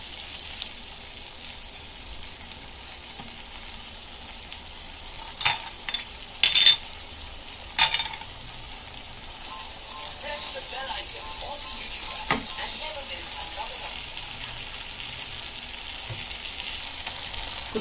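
Ginger garlic paste sizzles and fries in a hot pan with a steady crackling hiss, broken by a few louder clanks of stirring.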